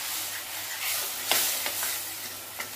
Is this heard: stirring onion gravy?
yes